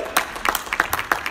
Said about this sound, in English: Come on and clap your hands for the Lord.